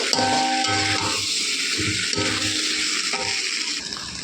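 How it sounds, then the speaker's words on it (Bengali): Fried potatoes and eggs cooked down in spice paste for an egg curry: steady close sizzling with intermittent scraping and stirring strokes in the pan, no voices. "এটা দিয়ে আমি আবার একটু কষে নেব ভালো করে, 4-5 মিনিট মতো।"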